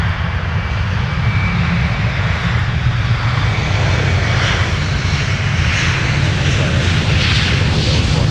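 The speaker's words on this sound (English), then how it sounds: "We'll get this departure here first before taking a look at United." A jet departing Minneapolis–Saint Paul airport gives a loud, sustained engine roar that stays steady and broadband across the whole stretch, with a faint voice barely present beneath it.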